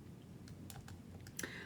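Quiet, scattered keystrokes on a computer keyboard entering numbers into a calculation, a few irregular taps over a low background hum, the last pair of clicks slightly louder.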